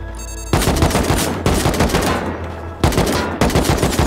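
Loud, rapid gunfire from the Rust survival game comes in several close bursts of fast repeated shots separated by brief gaps, with no voices.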